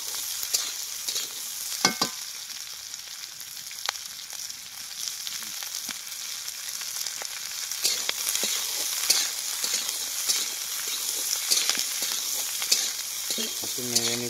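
Onions for chicken dopiaza fry and get stirred in a pan, giving a constant close sizzle with frequent scraping and tapping of the spoon against the pan.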